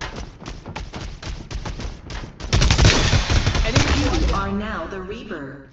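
Rapid automatic gunfire from the Invader gun in the PC game Farlight 84 team deathmatch, a dense burst of shots for a couple of seconds, after which someone talks over louder game noise.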